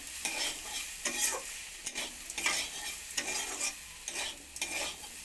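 Vegetables frying in a pan for a dry curry of yardlong beans, pumpkin and potato, with a crackling sizzle and repeated rhythmic stirring scrapes close up.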